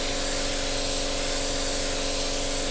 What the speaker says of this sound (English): Nice light coats, constant pressure on the airbrush, and literally we're just passing it all over.